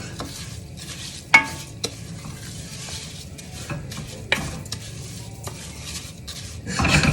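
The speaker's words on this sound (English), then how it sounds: "We're just going to stir it around until it's all kind of coated." Arborio rice stirred with butter and olive oil in a pan, a soft continuous scraping and gentle sizzle with several sharp utensil clinks against the metal, close up and without speech.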